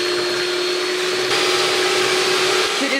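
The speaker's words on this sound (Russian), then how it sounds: "Сейчас я начинаю взбивать яйцо. Взбиваем на максимальной скорости." An electric mixer whips eggs at maximum speed, a steady, loud motor whine with a constant pitch and a dense whirring beater hiss, unbroken throughout.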